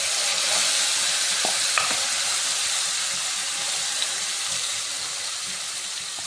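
Tempering spices frying in hot oil with curry leaves and dried chillies, a steady loud sizzle running throughout with occasional stirring clicks and light scrapes.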